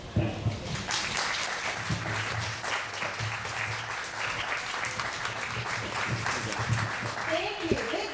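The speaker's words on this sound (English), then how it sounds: "Big round of applause." A festival crowd at a Seattle gardening event breaks into steady, dense applause lasting several seconds, with voices and cheers mixed in under the clapping.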